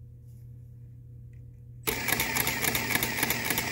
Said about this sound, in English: Now, if you notice, I'm using a power drill.